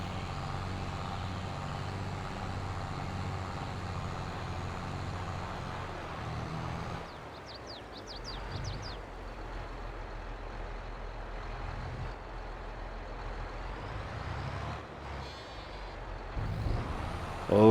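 Heavy tractor engine droning steadily in Farming Simulator 22 while hauling a loaded trailer, with brief squeaky brake or hydraulic chirps midway and a low rumbling bed throughout, no talking.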